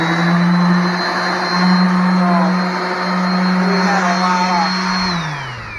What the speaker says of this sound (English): I just take my vacuum and stick it into this dust bag